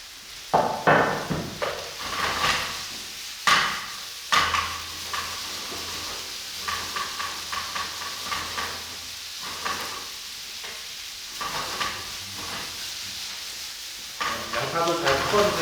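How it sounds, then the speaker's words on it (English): Onions stirred into pork in a hot pan while cooking Korean jeyuk, with a low sizzle broken by repeated scraping and clattering strokes of a utensil against the pan, close and uneven in rhythm, with occasional speech. "We need to stir the onion into the meat."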